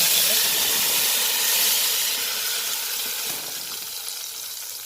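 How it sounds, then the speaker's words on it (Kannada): A ground masala paste fries in about two tablespoons of oil, giving a loud, steady hiss and sizzle that eases slightly toward the end. "ಈಗ ಎಣ್ಣೆ ಹಾಕಿ ಫ್ರೈ ಮಾಡಿ 2 ಟೇಬಲ್ ಸ್ಪೂನ್ ಆಯಿಲ್ ಹಾಕಿದ್ದೀನಿ. ಈಗ ಇದು ಹಾಕ್ತಾ ಇದ್ದೀನಿ, ಮಸಾಲೆ ರುಬ್ಕೊಂಡು."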